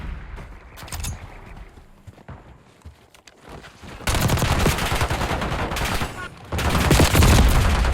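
Rapid gunfire bursts in a shooter video game while the player slides and moves, quieter shots and footsteps at first, then loud dense continuous firing filling the second half.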